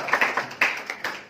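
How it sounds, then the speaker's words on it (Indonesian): Scattered hand claps from a small group at an Indonesian community meetup, a handful of sharp, uneven claps close by over about a second. "Oh ya, tepuk tangan"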